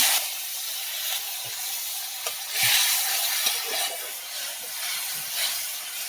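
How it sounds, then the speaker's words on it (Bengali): Chili powder, turmeric and salt masala sizzles in a pan after a little water is added, for a fish, potato and green tomato curry; a loud, steady close hiss with occasional stirring scrapes. "অল্প একটু পানি দিয়ে দেবো, দিয়ে মশলাটাকে কষিয়ে নেব।"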